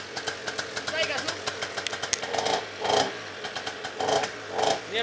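An Aprilia SR scooter with a Minarelli engine and Polini Sport 70 kit runs for the first time, a steady rapid two-stroke putter with a couple of short throttle swells, heard close up.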